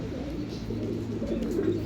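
A pigeon or dove cooing softly in a low, steady murmur, close by, with faint voices in the background.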